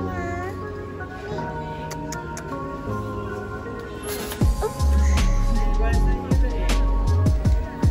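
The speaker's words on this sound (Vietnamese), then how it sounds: "Mấy em mèo này là mèo của nhà hàng nè." Several cats meow repeatedly near a restaurant, with rising and falling calls spread across the clip, growing louder toward the end over a steady background hum.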